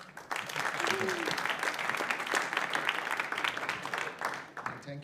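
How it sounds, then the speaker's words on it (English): An audience at a BSides Amsterdam tech talk applauds a speaker, a steady wash of clapping lasting several seconds before tapering off, with a voice briefly audible near the start. "let's give Noah a round of applause then"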